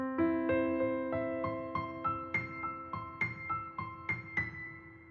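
Piano notes ring out one by one in a steady rising arpeggio pattern, clear and unaccompanied, with no voices.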